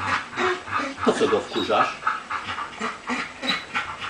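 A dog pants rapidly with short growly whimpers close up, while a voice talks over it in Polish during a thunderstorm.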